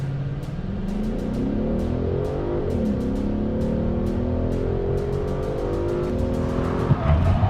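A car in a timed braking challenge revs and accelerates hard with rising engine tones, then brakes with a brief tire squeal near the end, loud and close, with no talk.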